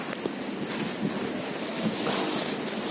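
Strong wind roaring outdoors high up, a dense, steady rush of broadband noise buffeting the microphone, loud and continuous with no voices.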